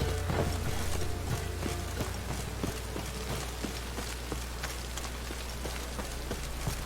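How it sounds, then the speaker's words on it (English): Rain falling steadily in the video game The Witcher 3, a dense hiss of drops with scattered sharper patters over a low rumble, continuous and fairly loud with no talk. "Raining again."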